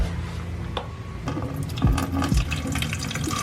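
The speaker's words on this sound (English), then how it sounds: "I pour the liquid in" Liquid for making fake sweat is poured into a container, giving a steady close trickle and splash over a few seconds. A few soft knocks sound as the vessel is handled, and nobody speaks.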